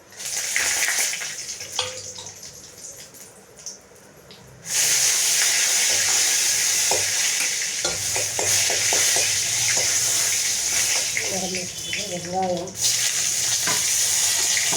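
Curry leaves and dried red chilies fry in hot oil for mor kulambu, giving a loud, close, crackling sizzle after a quieter start, with a few utensil clinks and some stirring along the way.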